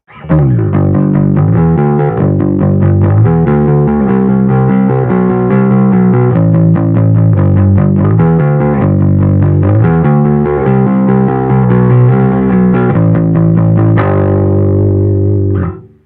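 A loud, gritty overdriven bass played through a JHS Amp Pack SVT amp simulator plays a continuous riff, thick and distorted throughout, ringing out at the end.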